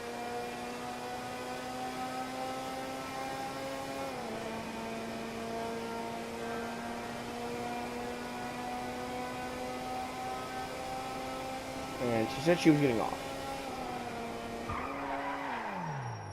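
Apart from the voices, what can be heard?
Ocelot Penetrator car driving in video game Grand Theft Auto V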